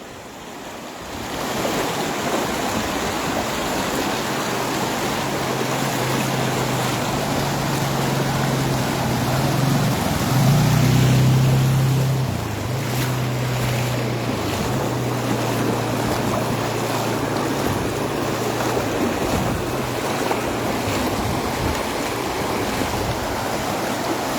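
Strong floodwater rushes and roars through a flooded village in the Viramgam area after heavy rain, a loud, constant turbulent wash with wind buffeting the microphone and no voices.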